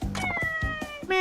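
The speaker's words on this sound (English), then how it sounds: "Aw, look at the kitty." A cat in the video game Like a Dragon: Ishin! gives a drawn-out, wavering meow that rises into a whiny caterwaul, heard up close and loud.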